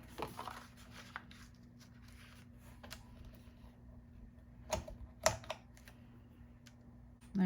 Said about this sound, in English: we're going to score our cards